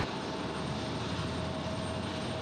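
A Frontier airliner taxiing at Raleigh-Durham International Airport on a breezy day produces a continuous, fairly loud jet-engine rumble and hiss with a thin whine, heard alone without speech.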